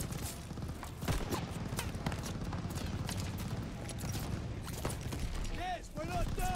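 Gunfire from Call of Duty Vanguard sounds in a busy battle, with scattered shots and bursts over a constant din and a few mechanical clanks near the end.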